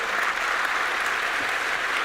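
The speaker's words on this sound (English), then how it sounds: "Merci Wade, je crois qu'on peut l'applaudir très fort." Audience applause fills a conference hall after a keynote talk at the IMF 2020 event. It is a dense, steady wash of many hands clapping that holds evenly throughout without voices over it.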